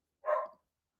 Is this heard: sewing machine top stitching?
no